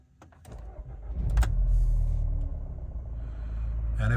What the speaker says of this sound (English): quick video of start up and idling warm on this Scirocco